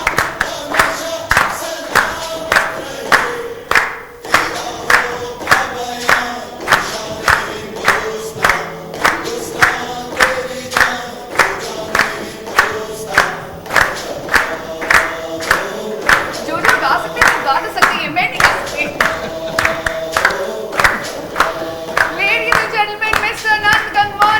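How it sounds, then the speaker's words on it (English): A crowd of people claps along in steady rhythm to music at a Diwali celebration, the loud, regular claps continuing throughout with music underneath and some voices mixed in. "Can we clap along?"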